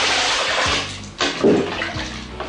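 Water poured into a cooking pot while making goulash of ground meat, a little carrot and spices, a splashing stream that stops briefly, then returns with a louder gush before trailing off.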